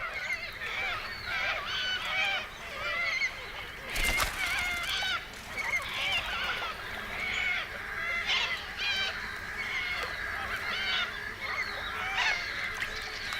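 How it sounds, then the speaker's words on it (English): A flock of little corellas screeches and squawks continuously at moderate distance in the Australian wild, the harsh overlapping calls broken by a brief loud burst partway through. "Kangaroos often have to put up with noisy neighbors, the little corellas."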